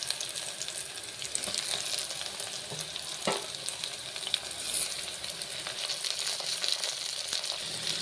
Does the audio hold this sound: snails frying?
yes